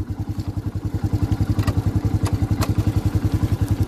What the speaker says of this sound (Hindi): तो ये मेरा यहाँ पर दोस्तों गियर लग चुका है।